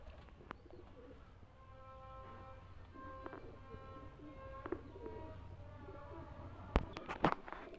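A pure Chaudhry-breed pigeon coos in repeated soft, rising calls close by, with a few sharp taps and rustles near the end over a quiet background.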